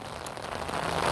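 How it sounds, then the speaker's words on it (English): Rain falling outdoors, a dense steady patter and hiss of drops on surfaces, continuous and moderately loud with no voices. "Yeah, it's raining out here, man."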